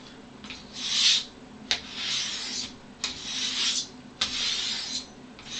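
A straight razor stropped by hand in four slow, even strokes, each a soft close rasp about a second long, separated by brief pauses, with no voices.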